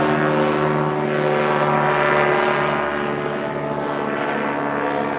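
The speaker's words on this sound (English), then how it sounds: "That's a drone." Steady propeller-like buzzing of a drone flying overhead, a continuous close drone with layered harmonic whine holding at an even loudness throughout with no talking.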